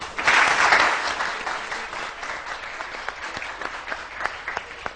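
A studio audience on a morning television show breaks into loud applause, strongest at the start and then settling into steady, slightly thinning clapping.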